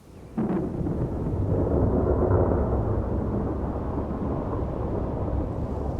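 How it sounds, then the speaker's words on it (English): A thunderstorm with gusty wind and heavy rain: a sudden loud thunderclap opens into a long, deep rolling rumble over a steady wash of rain, all close and continuous with no voices. "A thunderstorm can bring gusty winds and large raindrops."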